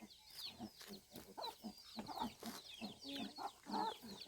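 Chickens in a traditional hill-tribe village in the mountains of Laos cluck softly and intermittently, with several birds calling in short, irregular bursts at a quiet, moderate distance.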